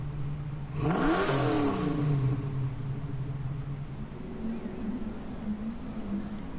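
A two-wheel-drive Ford Mustang Mach 1 engine in a racing video game, on dirt tires, revs up sharply with a rising then falling roar, settling into a steady idle rumble; no talking.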